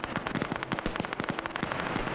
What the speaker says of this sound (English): Here's the gunshot by Silent